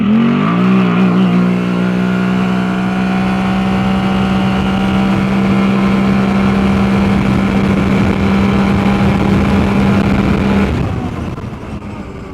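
Can-Am Outlander ATV fitted with a CVTECH primary clutch accelerating hard off the line, a loud, sustained engine roar holding a steady pitch for about ten seconds before cutting off, close to the microphone.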